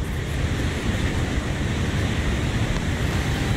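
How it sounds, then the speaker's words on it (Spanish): A steady, broadband roar of rushing water fills the scene at the Southford Falls waterfall in a state park, continuous and close, with no talk over it. "aquí tenemos una cosa hermosa, la cascada, the waterfalls"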